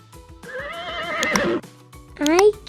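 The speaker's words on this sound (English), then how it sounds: "I am a brown horse." A brown cartoon horse whinnies in two bursts: a long wavering neigh, then a short, rising, higher-pitched one after a brief pause. The sound is close and fairly loud.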